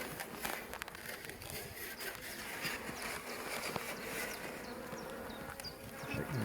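A colony of honeybees, newly delivered to their hive, hums as a dense, steady buzzing drone with faint scattered movement, heard close and fairly quiet throughout.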